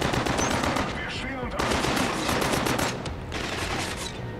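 Rapid automatic gunfire in the video game Killzone Mercenary rattles in continuous bursts, dense and loud, with brief lulls between volleys.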